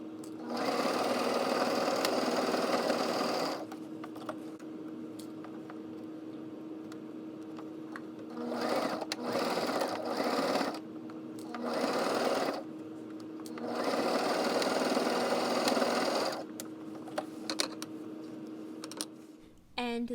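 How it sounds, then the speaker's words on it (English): Domestic sewing machine stitching the shoulder seams of a summer dress bodice, running in several steady bursts of a few seconds each with short pauses between, close and fairly loud, no talking. "I started by cutting out the bodice pieces and then pinning and sewing them together at the shoulder"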